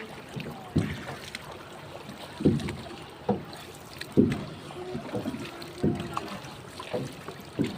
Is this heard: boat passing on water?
yes